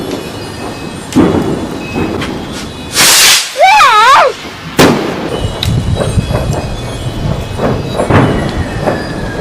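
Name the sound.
fireworks going off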